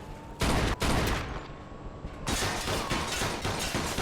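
Dense bursts of rapid gunfire in the Mafia II video game, loud and close, with a brief lull in the middle before the shooting resumes.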